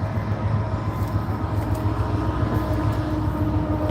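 Parked freight trains sit in a rail yard beside a Purina facility, giving off a loud, steady low rumble and hum with a constant mechanical drone, no talk over it.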